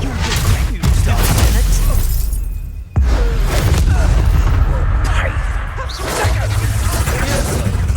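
Spell explosions in the Hogwarts Legacy video game: loud booming blasts, shattering bursts and whooshes crowd together in dense combat, with a brief gap near three seconds. A man calls out incantations over the noise.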